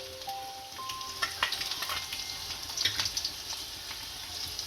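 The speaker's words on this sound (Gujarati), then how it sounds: "આમાં કટિંગ કરેલું લસણ નાખીશું" Chopped garlic goes into hot oil for a spinach and moong dal dish, sizzling steadily up close with intermittent clinks and stirring scrapes of a spoon against the pan.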